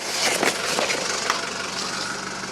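A 1981 Mercedes-Benz W123 240D diesel engine idles with a steady, rough rumble that continues for the whole stretch, close and fairly loud, with no one talking.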